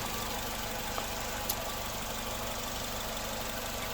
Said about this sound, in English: The car is idling perfectly